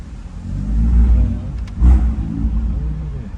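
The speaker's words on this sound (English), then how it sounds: "You hear the turbos?" Turbocharged BMW M2 pulling hard in Jamaica, a steady low engine rumble and whirring drone that swells briefly mid-way, with a faint rising turbo whoosh over a continuous close-up roar.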